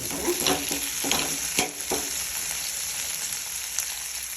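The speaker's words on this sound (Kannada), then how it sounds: "ನೋಡಿ ಈಗ ಇದಕ್ಕೆ ಟೊಮೆಟೊ ಹಣ್ಣು ಹಾಕ್ತಿದೀನಿ" Tomatoes sizzle in hot oil in a pan for ivy gourd chutney, with a steady frying hiss and a few sharp scrapes and knocks as a spoon stirs them, close up and with no talking.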